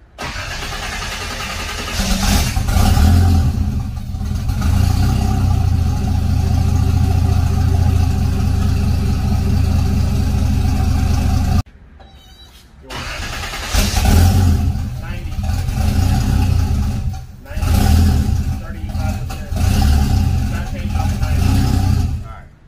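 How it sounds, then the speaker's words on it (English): Several cars and Jeeps revving their engines outdoors, loud sustained roars rising and falling with a brief drop near the middle, while people talk over the noise. "People just show up here just revving their engines and Jeeps."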